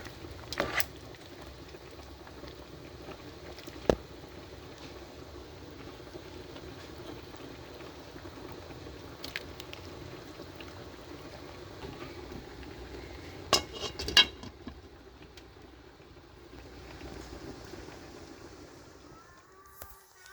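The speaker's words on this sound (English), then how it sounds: "I'm just gonna mix them around so that they all get covered in the syrup" Cooked pumpkin pieces being turned in syrup for Mexican sweet pumpkin, quiet scraping and stirring with occasional sharp clinks of a utensil against the pot over a long, low background.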